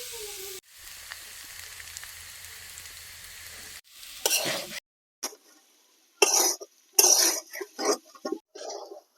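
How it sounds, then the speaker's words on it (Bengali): Pangas fish and potatoes frying in oil for Bangladeshi nom aloo bhaja, heard as a hum, then a run of loud, broken sizzling bursts separated by short silences, with a throat clearing in between. "এই দেখুন এবারে কিন্তু পাঙ্গাস মাছ থেকে তেল ছাড়তে শুরু করেছে আরও পাঁচ মিনিট মতো এভাবেই ভেজে নেব"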